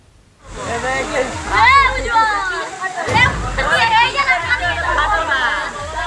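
Water gushes like a waterfall from a burst water-supply tank in Gopalganj. It rushes loud and continuous beneath a crowd of voices chattering and calling out close by.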